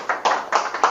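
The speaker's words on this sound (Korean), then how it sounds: "박수 한번 주세요." Lecture audience clapping in a brief burst, a few bright rhythmic swells of applause across about a second, moderately loud and fairly close, with no talk over it.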